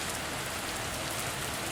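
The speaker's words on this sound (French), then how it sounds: "listening to the rain." Rain falls steadily, a dense, even patter that fills the whole moment with no voices.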